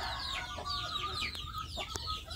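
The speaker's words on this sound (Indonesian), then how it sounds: "Pagi ini saya memberi makan ayam kampung saya yang ada di tempat mengerami sedulur." Free-range village hens brooding in their nesting area cluck during morning feeding, a close chorus of overlapping soft clucks and calls with a few sharp peeps, moderately quiet and unbroken.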